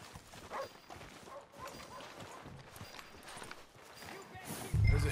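Horse hooves clip-clop at a steady walking rhythm in a Red Dead Redemption 2 town street, moderately near, with muffled game ambience and some talk over it.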